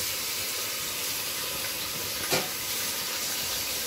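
Mutton dropped into fried onions in a pan for nihari, a steady broad sizzling hiss throughout with one brief louder crackle partway through, close and fairly loud.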